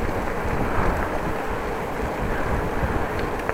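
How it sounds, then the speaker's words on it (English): Steady wind roars and buffets against the microphone, a dense, continuous rumble with no voices. "At the moment it's quite cold, it's windy."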